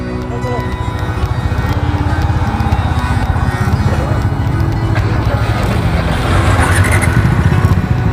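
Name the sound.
motorcycle riding off-road, Dominar bike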